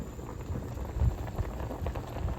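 Salmon sinaing simmering and boiling in a pot, a soft steady bubbling with small irregular pops, faint and close.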